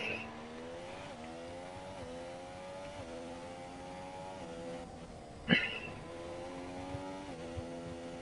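A race car in a Mexico Grand Prix racing game lap hums along with a steady, rising and falling engine tone that shifts through gear changes, plus one brief sharp bump near the middle.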